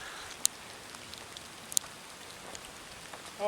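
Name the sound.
small ice pellets falling like rain on a winter trail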